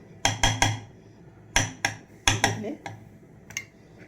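A kitchen knife cuts beetroot on a board in sharp, close knocks, about eight strikes in uneven quick bursts with brief pauses between.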